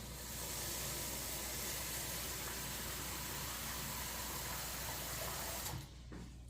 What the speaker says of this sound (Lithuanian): Vėl pripilsim vandens.